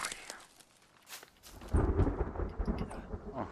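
Thunder and rain in the survival video game The Forest, a faint rainy hiss giving way to a deep, loud rolling rumble of thunder that swells midway and lingers to the end.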